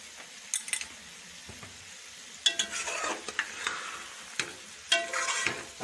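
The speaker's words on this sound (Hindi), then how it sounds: "अब इन तमाम मसालों के साथ गोश्त को अच्छी तरह से भून लेंगे" Mutton pieces fry with salt, coriander powder, red chilli powder and tomatoes in a pan for bhindi gosht, heard as quiet sizzling punctuated by sharp clusters of spatula scrapes and clinks against the metal.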